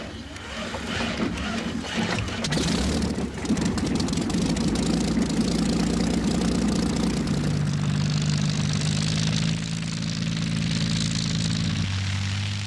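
The engine of a 1930s Hawker Hind biplane running with its propeller turning, a steady droning roar that settles into a lower idle toward the end, with no talking.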